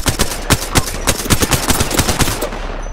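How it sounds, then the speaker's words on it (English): Rapid bursts of automatic gunfire from an Apex Legends match, loud and close, sharp shots repeating in quick irregular volleys for the whole stretch with no talking. "They're shooting at me."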